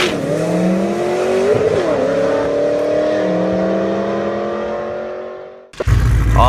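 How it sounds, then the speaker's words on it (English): A Hot Wheels diecast Mustang safety car runs down a quarter-mile, six-lane toy race track, giving a steady rolling whir with rising and shifting tones that fades out near the end, followed by a brief louder clatter. "we got the Mustang safety car is gonna do a pass on the 1/4 mile track just to make sure everything is good"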